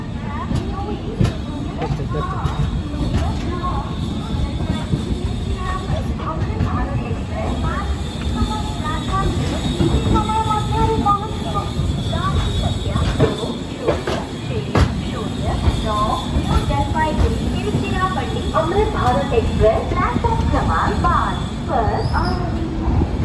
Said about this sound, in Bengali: ট্রেন ঢুকছে ভুবনেশ্বর জংশন স্টেশন।